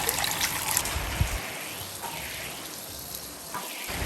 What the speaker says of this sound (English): we're going to add our water in as well